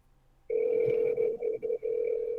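An outgoing telephone call rings on the line, a steady electronic tone that starts abruptly and holds for about two seconds, with a few brief dropouts.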